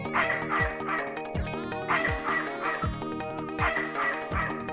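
Dog barking in the video game Snatcher, repeated yelps over a steady looping synth music bed, with no talking.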